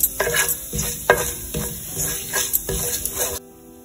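Chilli flakes frying in a pan while being stirred for a goru chikkudu (cluster bean) curry, with repeated scraping strokes of a spatula against the metal over a steady sizzle, close and loud, then a sudden drop to quiet.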